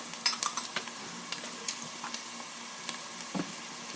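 Onions and peppers are stirred in a pan, a soft sizzle under scattered scraping and clinking utensil strokes at an irregular pace, no talk.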